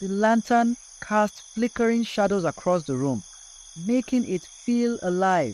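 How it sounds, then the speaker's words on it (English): A steady, high cricket chirping hums outside at night in the background while someone speaks calmly over it. "half listening to the crickets outside"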